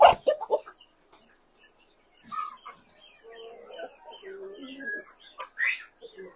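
A rooster in a farm pen clucks and calls in short, scattered bursts, close by, with quieter gaps between them.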